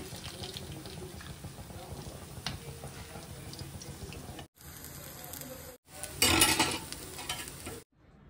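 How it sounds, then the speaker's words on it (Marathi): Hara bhara kebabs shallow frying in a pan, giving a continuous close sizzle broken by two brief silent gaps and a louder burst of crackling near the end. "अशा प्रकारे आपल्याला हे डीप फ्राय करून शॅलो फ्राय करून घ्यायचे आहे"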